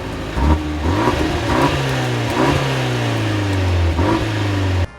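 A 2017 Fiat 124 Spider's engine pulls hard under acceleration from inside the cabin, revs climbing through repeated gear changes with a steady, close drone that drops off at the end.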